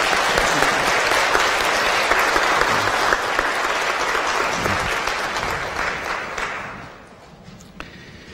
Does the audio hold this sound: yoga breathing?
no